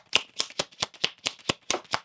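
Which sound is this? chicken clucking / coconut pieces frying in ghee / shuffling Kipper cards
shuffling Kipper cards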